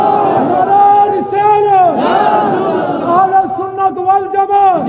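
Large open-air waz gathering crowd roaring a takbir response in unison, loud and sustained massed voices swelling over about five seconds with layered shouting.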